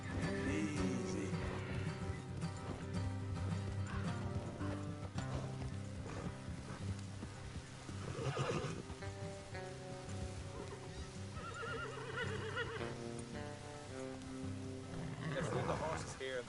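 Horses in Red Dead Redemption 2 whinny and their hooves clip-clop steadily along a trail, blended into a dense, continuous bed of game music and ambience throughout.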